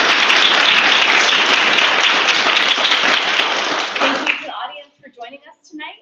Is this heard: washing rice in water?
no